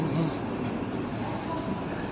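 A Vande Bharat train in India runs steadily with a continuous dense rumble and rolling noise, close and unbroken throughout.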